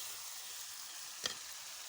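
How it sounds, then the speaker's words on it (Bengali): Fish sautéing in a pan during Bengali home cooking, giving a steady, soft sizzle with one brief clatter partway through. "মাছটা মোটামুটি কষানো হয়ে গেছে"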